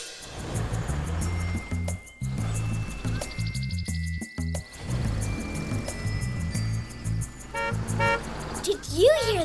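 A shiny toy car's horn gives short bright beeps among cheerful children's-show sounds, with a voice talking over much of it.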